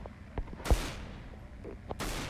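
Two sharp gunshots from a sniper rifle in a video game, one loud crack near the middle and a second broadband burst near the end, with a fainter thud between them over a low background hum.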